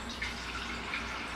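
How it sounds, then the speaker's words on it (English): Water streams from a tap or is poured into a pot of jam for making jam, a brief soft continuous splashing that is heard alone at low volume. "I am deciding that I'm going to add water to that just to kind of spread out the seeds"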